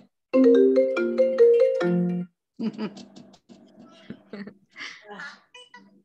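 A phone ringtone plays a loud, bright electronic melody of stacked tones for about two seconds near the start, then people talk over a quiet background.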